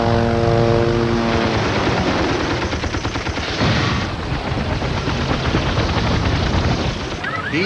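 Aircraft roaring loudly overhead in a film action scene, a dense continuous engine and propeller drone with gunfire-like bursts mixed in, close and dominant throughout with no speech.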